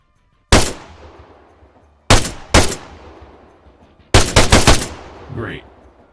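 Three separate loud bursts of automatic machine gun fire in ARMA III, the first a short single burst, then a quick double burst, then a longer rattling burst that fades out, with no talk over them.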